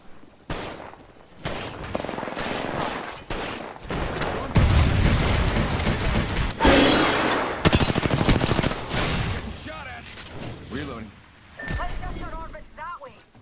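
Rapid bursts of gunfire in Apex Legends, heavy and continuous through the middle and mixed with explosive blasts, under game voice lines and player talk.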